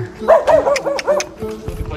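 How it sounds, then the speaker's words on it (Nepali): Several dogs bark at a farm in a Korean village, with a quick run of close, loud yapping barks clustered early and then fading into scattered yips, with a person talking over them. "कुकुरहरू कराउनु थाले यार"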